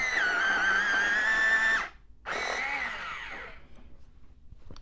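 A walnut brown drawing pencil is ground in an electric sharpener, a loud whirring grind that stops briefly after about two seconds and then resumes before fading, with no talk.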